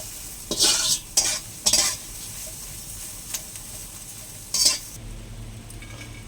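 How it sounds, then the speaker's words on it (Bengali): Chillies frying in a pan give a soft background sizzle, broken by several short, scraping bursts of a utensil stirring against the metal, close by with no talking. "লঙ্কা ভাজা হচ্ছে"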